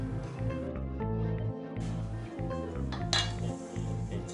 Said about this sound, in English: It's time to add the stewed apples into the oven-proof dish.